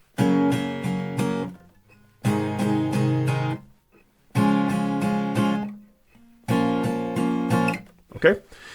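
An acoustic guitar strummed in even straight downstrokes, played in four bursts of about two seconds each with short pauses between them, as in a song.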